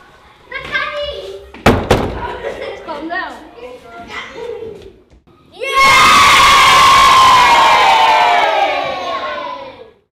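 A group of children erupts into loud, sustained cheering and shouting, close by and lasting several seconds before fading slightly. It follows a stretch of talking and a sharp knock.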